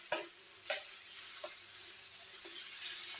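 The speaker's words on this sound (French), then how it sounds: "une fois que vous les avez fait saisir" Meat for a guinea fowl and veal dish sears in a pan with a quiet, steady sizzle, broken by a few sharp clicks and scrapes of a utensil against the pan.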